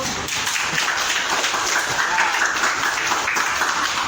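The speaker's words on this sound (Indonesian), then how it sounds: "tepuk tangan dulu" Schoolchildren clap their hands together in a classroom, a dense, steady patter of many small hands that keeps going without a break for about four seconds.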